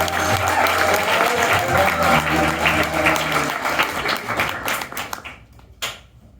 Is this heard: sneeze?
no